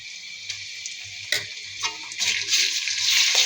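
Ginger-garlic paste hisses and sizzles in hot oil with fried onions in a pan, a bright steady frying hiss that swells louder toward the end, with a few utensil taps and a low hum beneath.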